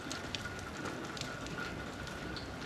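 Rain falls steadily outdoors in a dense, even patter of drops on surfaces, a continuous soft hiss at moderate distance with no speech.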